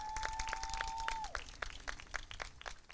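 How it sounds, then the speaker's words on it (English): Quiet round of applause from a small crowd for council members and the mayor at an AAPI mural unveiling, a steady patter of claps with a faint sustained tone early on. "let's give them a big round of applause"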